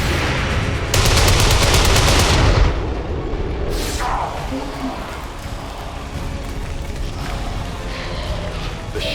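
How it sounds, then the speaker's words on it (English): XCOM 2 gameplay brings a booming explosion and rapid bursts of gunfire, loud and close in the opening seconds, then a continuous rumbling battle din with scattered further shots. "The shockwave of that explosion reverberated throughout most of the city."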